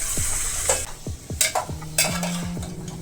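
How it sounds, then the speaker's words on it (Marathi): Carrots sautéing in a pot for carrot halwa give a steady soft sizzle. A spoon scrapes and stirs them in several separate strokes, with light metallic clinks from the pot. No one speaks. "छान असं परतून घेत आहे"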